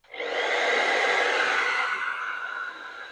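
A fan heater running on its first mode with the heating off, powered from a LogicPower LPM-PSW-1500VA UPS, starts up into a steady airy blowing rush that stays close and constant, with no voices.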